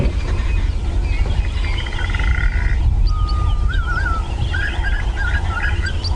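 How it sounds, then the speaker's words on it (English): An African green pigeon calls on a sunrise safari drive in the bush, giving a few whistled, wavering phrases over constant vehicle rumble and background bird chatter, with no one speaking. "listen to the green pigeon"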